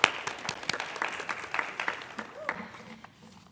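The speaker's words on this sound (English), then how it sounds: "a round of applause for Cathy" An audience at a women's celebration event applauds a guest named Cathy, scattered claps rising sharply and then thinning out into a looser patter, with some voices mixed in.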